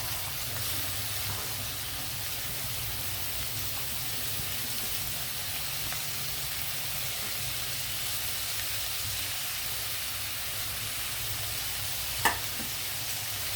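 Onions fry in hot oil in a pan for a shrimp and drumstick egg curry, giving a steady, close, continuous sizzle and hiss with one brief clink of stirring near the end.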